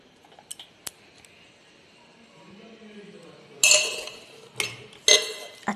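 Rice served onto a plate with metal utensils: a few sharp clinks and scrapes near the end, with faint quiet handling before.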